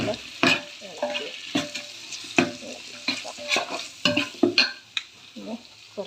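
Chilli and coriander powder being stirred into frying oil in a pan for Palakkad-style dum biryani, a sizzling bed broken by repeated scraping spoon strokes and metallic clinks at an uneven rhythm.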